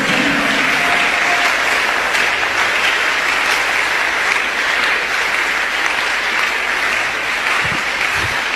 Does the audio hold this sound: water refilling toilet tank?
no